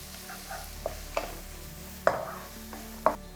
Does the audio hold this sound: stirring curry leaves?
yes